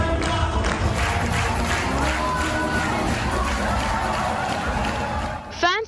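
Fans at an RRR screening in Los Angeles cheer in a busy crowd roar, with shouting and clapping running steadily throughout and a swell at the very end.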